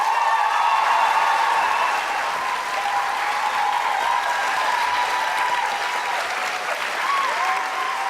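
A large audience in Berlin bursts into sustained, dense applause to welcome Jenna Coleman and Peter Capaldi, the clapping loud and steady throughout with faint cheers mixed in.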